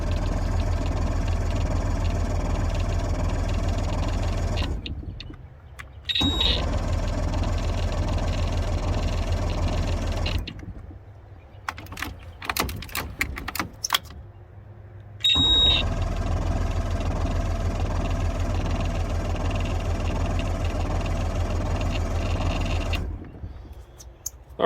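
Pontoon boat outboard engine cranking without firing, repeated starter bursts of steady mechanical whirring broken by short pauses and clicks, loud and close.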